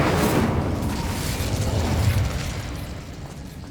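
The Incendio fire spell in the video game Hogwarts Legacy releases a loud, roaring fiery blast that rushes and crackles for about two seconds before slowly fading.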